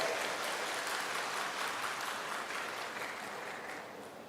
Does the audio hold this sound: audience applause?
yes